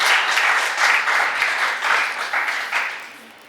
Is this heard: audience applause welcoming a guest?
yes